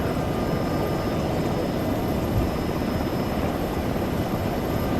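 Helicopter in the Arma 3 military game, a steady loud rotor and engine drone with dense low-end rumble, continuous and close throughout with no talk.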